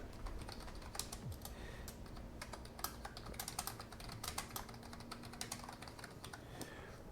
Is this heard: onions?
no